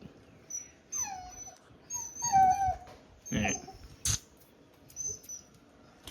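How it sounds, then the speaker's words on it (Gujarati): A dog whimpers and yelps in short, high squeaky bursts, fairly quiet, with pauses between and a few sharper cries. "અને આ છે આપણો કૂતરો ટીલું"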